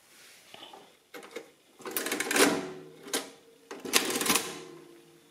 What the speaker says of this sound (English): To print a subtotal, you have to press down the total button when you pull the lever.